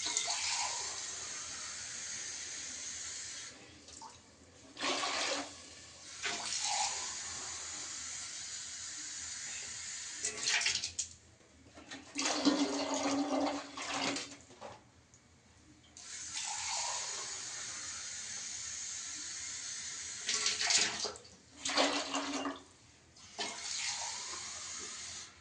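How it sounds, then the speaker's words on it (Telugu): Four and a half cups of water pour into two cups of rice in a pot for egg biryani, a faint splashing rush coming in several separate bursts with quiet gaps between them. "four and half cups water పోస్తున్నా friends"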